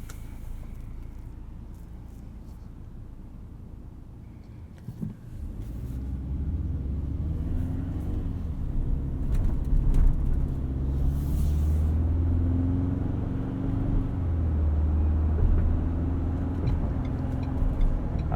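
A 2019 Ford Ranger Supercab 4x4 engine restarts through auto stop-start after a quiet stretch, settling into a low, steady rumble heard from inside the cabin.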